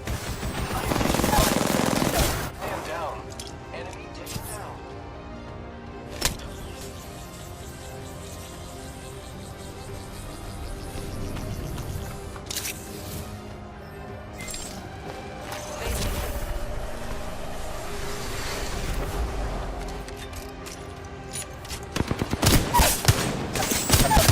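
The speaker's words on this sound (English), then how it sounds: "With her wingman gun, she manages to dispatch 3 of the enemies with precise aim." Rapid bursts of Wingman handgun fire in an Apex Legends match, loud and sustained over a busy game soundscape with a few sharper shot clusters near the start and end.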